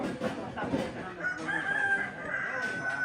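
A rooster crows around a house in the morning in Balusu, Indonesia, a drawn-out call over a faint murmur of background voices and village noise.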